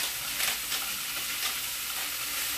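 Food sizzles steadily in a hot pan over a gas flame, a soft continuous hiss with faint stirring scrapes, fairly quiet and close, with no voices.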